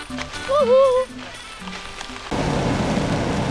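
Rain falling outdoors during a trip in Surat Thani, Thailand, starting as a sudden steady hiss partway through after a stretch of talking and a short vocal exclamation.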